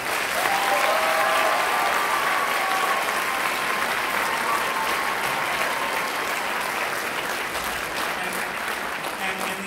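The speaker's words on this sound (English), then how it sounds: "So let's give her a round of applause." Audience applause fills a high school symphonic band's spring concert hall, a dense, steady wash of clapping that stays loud and continuous throughout with a few faint whistles or cheers mixed in.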